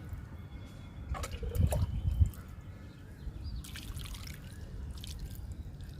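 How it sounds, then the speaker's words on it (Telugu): Water is poured over a cupped hand onto newly sown gourd seeds in small pots, making soft trickling and dripping splashes in a couple of short bursts against a quiet background. "విత్తనాలకు కానీ మొక్కలకు కానీ వాటర్ ఇచ్చేటప్పుడు ఇలా చెయ్యి అడ్డం పెట్టి ఇవ్వాలి"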